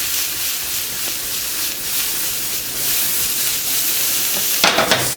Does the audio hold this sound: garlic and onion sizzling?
yes